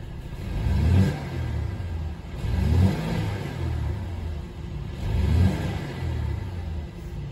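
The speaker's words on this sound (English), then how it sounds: "I guess we can do a little rev so you can hear it." A Mercedes E300 engine revs three times in slow succession, each rise a deep throaty swell that falls back to a steady idle.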